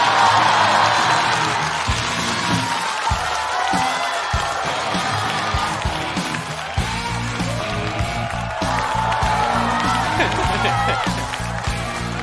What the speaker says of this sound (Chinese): 让我们掌声有请呼兰。